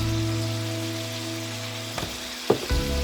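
Ground beef and bacon frying in a cast iron skillet, a steady close sizzle with a low hum beneath, broken near the end by a couple of sharp clanks.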